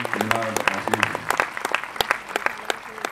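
An audience at a live stage music programme applauds the performing artists in dense, sustained clapping that fills the hall, loud and continuous with a few sharper individual claps standing out.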